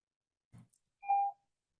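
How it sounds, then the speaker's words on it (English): A single short electronic beep during a landmarks board meeting, clear and steady for about a third of a second after a brief low thump, with silence around it. "Sorry about the beeping."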